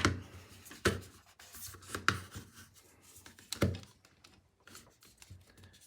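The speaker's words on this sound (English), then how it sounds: "For installation itself, we simply click it on top." A Nanoleaf pegboard desk dock being fitted onto a pegboard, heard as a few sharp plastic clicks and knocks with handling rustle between them, close up and with no talking.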